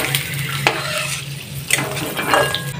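Peanuts fry in hot oil in a pan in a village home kitchen while a utensil stirs them, scraping and clinking against the metal over a low, steady sizzle.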